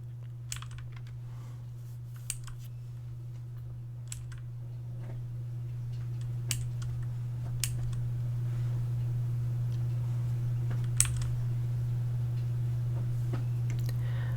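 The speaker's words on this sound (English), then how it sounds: "this game doesn't actually have the ability to skip this typewriter dialogue" Typewriter-style dialogue text in a dating sim game ticks out as sparse, faint clicks scattered irregularly over a steady low hum, with no talking.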